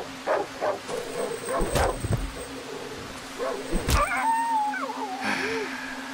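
Dog barks in the horror survival video game Darkwood, a few loud, sharp bursts spaced through the scene among other game sounds and whining tones.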